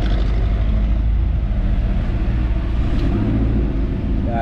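A 2016 Toyota Avanza engine with an open exhaust runs loud and close, a heavy low rumble holding steady throughout with no break.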